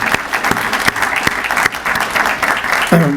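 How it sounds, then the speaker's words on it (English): A crowd applauds for several seconds at a University of Bridgeport event hosted by the Bridgeport mayor, with dense steady clapping, near and loud, and a brief voice breaking in right at the end. "I'd like to give you a round of applause for what you do."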